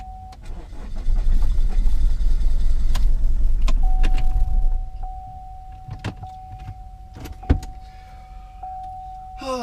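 Diesel Chevy Cruze engine cranking and catching after its glow plugs are cycled, a loud churning start for several seconds that drops to a steady idle hum, with a faint whine and a few clicks and knocks inside the cabin.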